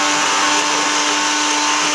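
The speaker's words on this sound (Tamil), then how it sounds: "மிக்ஸி ஜாரில் போட்டு நல்லா அரைச்சிக்கோங்க. ஃபஸ்ட்டு நல்லா கிரைண்ட் பண்ணிக்கோங்க." A mixer grinder grinding paneer runs loud and close with a steady high-pitched motor whine and a constant grinding roar, with no talking.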